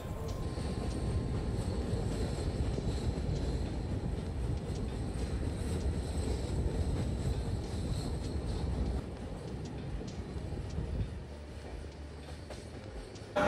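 Saraighat Express train running at night, a steady loud rumble of wheels and carriage noise throughout, easing slightly toward the end.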